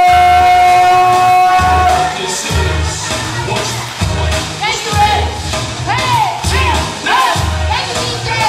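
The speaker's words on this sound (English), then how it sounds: "Can everybody start clapping your hands up right now?" An audience at a comedy show in a lounge in Baldwin, New York, cheers, whoops and claps loudly and continuously, with a steady thumping music beat underneath and voices shouting over the crowd.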